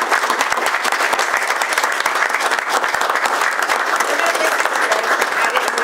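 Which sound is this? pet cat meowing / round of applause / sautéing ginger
round of applause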